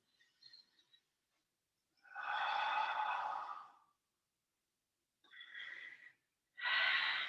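Slow, deep breaths during a relaxing back-focused yoga session, a long airy inhale followed by shorter exhales and another inhale, close and quiet with no voice over them.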